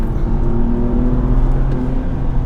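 A BMW M2 Competition engine roars steadily at high revs from inside the cabin, a continuous loud drone with slight shifts in pitch, changing gear around 6,000 RPM.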